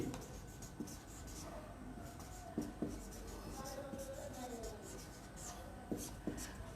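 Writing on a board during an accounting lesson, heard as faint, scratchy strokes and light taps in short bursts, with a voice speaking over them.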